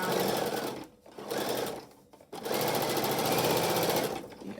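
Sewing machine stitching a pleated fabric mask, running in loud continuous bursts with two brief pauses between runs, close and alone.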